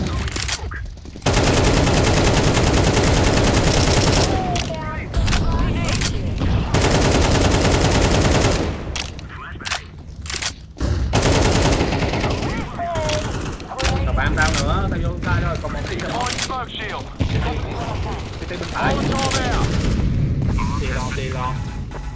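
Heavy gunfire on the De_Ancient map in the Counter-Strike video game, dense bursts and booms filling most of the stretch with brief lulls, while players talk over it.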